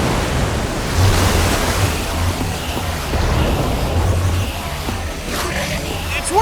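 Water gushes out in Minecraft: Story Mode, a steady broadband rush like surf that swells and holds for several seconds, fairly loud, with faint game sounds and no speech.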